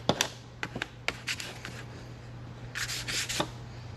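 Paper is rubbed by hand onto an inked woodcut block for a relief print, producing soft scratchy strokes at close range. The strokes come in uneven bursts over a low steady hum, and no one speaks.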